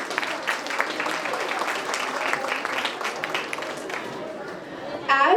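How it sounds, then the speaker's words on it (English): Audience at a Model United Nations conference closing ceremony bursts into sustained, dense applause with cheering, filling the room steadily for about five seconds before a sharp final burst. "May we have a huge round of applause."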